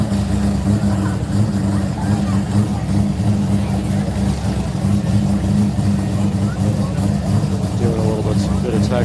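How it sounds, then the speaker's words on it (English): A rotary-engined Toyota Supra driving past, a steady engine drone under a crowd, with people talking over it throughout. "is that the rotary Supra?"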